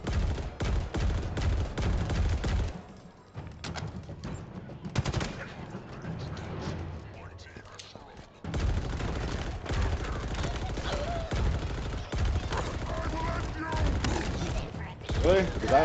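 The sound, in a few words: sniper rifle gunfire in the video game Halo Infinite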